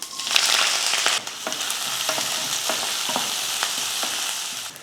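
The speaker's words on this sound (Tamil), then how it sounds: "எண்ணெய் காஞ்சதுமே கொஞ்சம் கடுகு உளுந்து சேர்த்துக்கலாம்" Mustard seeds, urad dal, onion and curry leaves hitting hot oil: a loud burst of sizzling that settles into a dense, even hiss dotted with crackling pops and stirring ticks, up close with no voices.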